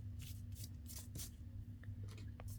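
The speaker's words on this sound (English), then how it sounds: "I'll go ahead and erase my little marks here" Small pencil marks on paper being erased, quick light rubbing bursts in short repeated strokes, faint and close.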